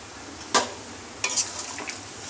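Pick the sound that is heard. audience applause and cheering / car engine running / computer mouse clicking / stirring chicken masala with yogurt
stirring chicken masala with yogurt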